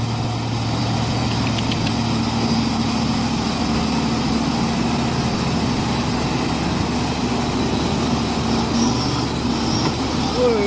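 Truck engine droning hard and steady while stuck in a deep mud hole, a loud continuous roar with little change in pitch and a voice heard faintly under it.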